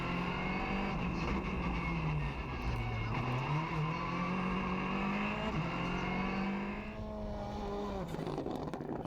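A VW Polo rally car on a stage of the Rallye du Condroz, its engine revving and shifting through gears with rising and falling pitch, moderately distant, a drop in engine note near the end.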